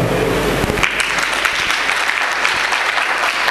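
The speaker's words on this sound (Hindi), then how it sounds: "जोरदार तालियां, और जोर से, और जोर से" A church congregation claps loudly and steadily throughout, a dense, sustained applause with no break, heard up close.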